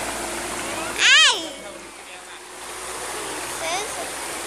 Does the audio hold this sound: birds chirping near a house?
no